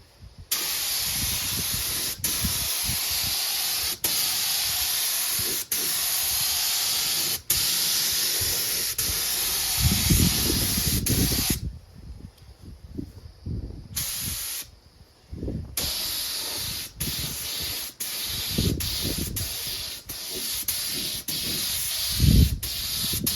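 A spray gun lays clear coat onto a 1967 Moto-Ski Capri snowmobile, giving a loud, steady hiss in long passes broken by two short pauses, with faint clunks and handling noises underneath.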